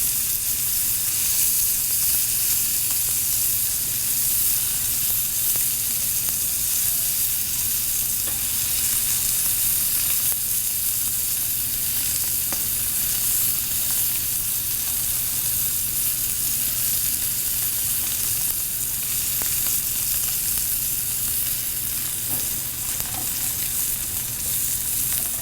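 Steak sears in a hot pan with a steady, dense sizzle and crackle that runs unbroken throughout, close and fairly loud, with no talking.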